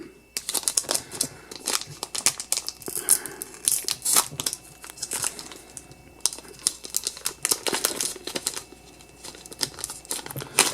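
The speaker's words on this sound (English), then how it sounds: "So let's go ahead and get these booster packs open." Digimon Fusion CCG New World booster packs being ripped open by hand, a busy run of crinkly foil tearing and crumpling, close and continuous with no talking.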